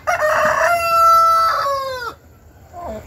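A rooster at a park-museum in Kemer, Turkey, crows loudly and close up in one long, drawn-out call, followed by a short, softer trailing note.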